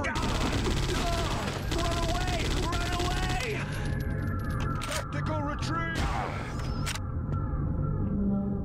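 Gunfire rattles through a level of the Judge Dredd video game as a Death Cult enemy fires a different kind of gun. The fire is dense and loud, with repeated cracking bursts layered over game music and effects.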